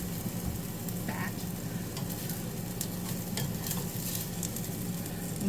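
Steak fat sizzles steadily in a hot pan while ramen is prepared, a close continuous frying hiss broken by a few light scraping stirs, with no talking.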